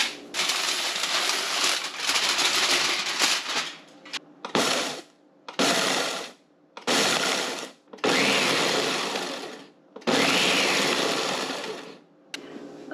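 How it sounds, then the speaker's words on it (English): Vitamix blender pulsing chopped garlic, loud whirring bursts of roughly one to two seconds each separated by short silences, after an initial longer run of about four seconds. "I'm going to get the Vitamix blender out. We'll get this chopped up a little bit more finely"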